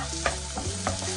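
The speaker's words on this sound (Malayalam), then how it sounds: "സവാള പകുതി വാടി വന്നപ്പോൾ ഇഞ്ചിയും വെളുത്തുള്ളിയും ചതച്ചത് ചേർത്ത് കൊടുക്കാം." Onions with crushed ginger and garlic sautéing in a pan for channa masala, a brief close sizzle with a couple of soft stirring scrapes.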